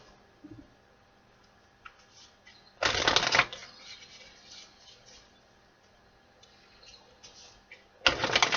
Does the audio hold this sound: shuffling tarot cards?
yes